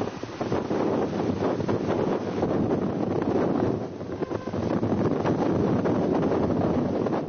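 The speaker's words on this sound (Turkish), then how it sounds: "Bazıları da rüzgara sırtını verdi." Strong Lodos wind buffets the microphone in a constant roaring rush, gusting louder and softer over several seconds with no voices.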